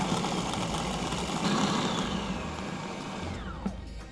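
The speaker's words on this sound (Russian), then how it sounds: "заправляем блендер. Накрываем его крышкой и включаем на небольшие обороты." A kitchen blender whirs steadily at low speed, blending hot new-year soup under a closed lid, a loud close motor drone that slows and fades near the end.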